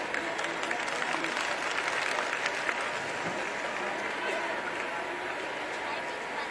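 Steady, sustained audience applause fills a temple festival gathering for Siddhbali Baba's annual ritual in Kotdwar, a dense continuous patter of many hands clapping at even loudness throughout.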